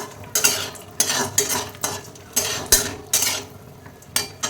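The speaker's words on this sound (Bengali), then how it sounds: "কিছু বড়ি ভেজে নিচ্ছি।" Bori, small lentil dumplings, frying in a pan as a metal spatula scrapes and knocks steadily about every half second over a low background sizzle.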